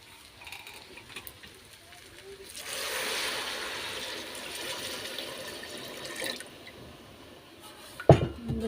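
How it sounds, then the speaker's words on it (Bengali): Water is poured into a cooking pot of spiced mixture, a rushing splash lasting a few seconds after quiet handling sounds, followed by a sharp clatter at the end. "এবার দিয়ে দেবো পানি"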